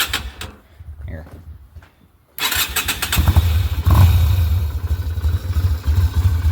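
An old Yamaha motorcycle, sat unused for about ten years, starts with a clatter and then idles low and steady, close by, after a quieter stretch with a voice talking.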